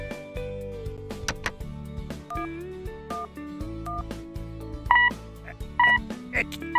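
Cartoon phone call that fails to connect, with a series of short electronic dialing tones and beeps over a busy musical score; no speech.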